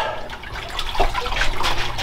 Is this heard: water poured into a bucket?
yes